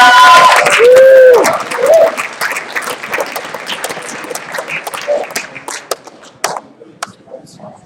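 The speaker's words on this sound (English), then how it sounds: "Can we get another round of applause?" Audience applause at the U of T Hacks closing ceremony, loud clapping and some cheers that taper off into scattered claps, with brief voices over it.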